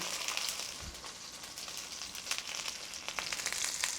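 Meat sizzling and frying in a shallow layer of oil in a pan on high heat, a steady close crackle with scattered sharper pops throughout, no voices.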